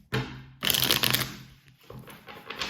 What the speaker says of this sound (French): On va tirer des cartes de tarot pour toi.